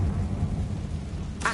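A Confringo fire spell cast in Hogwarts Legacy rolls out as a low, thunder-like rumble, then ends in a bright, sharp burst.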